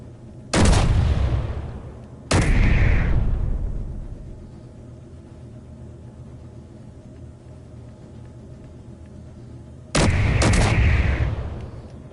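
Heavy ship guns fire in a video game. There are three loud, booming blasts, the last doubled, and each leaves a long rumbling decay with quiet gaps between.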